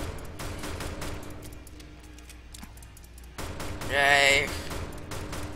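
Rapid gunfire from a Roblox zombie shooter game, a dense run of sharp clicking shots with short pauses, loud and close, with a brief voiced exclamation.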